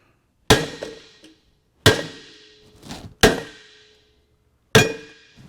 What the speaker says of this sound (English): you get that sledgehammer over there and give her a couple licks